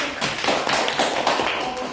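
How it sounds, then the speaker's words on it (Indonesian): A classroom of students clapping hands together in a short burst of steady, fairly loud claps, lasting about two seconds with some voices mixed in. "tepuk tangan"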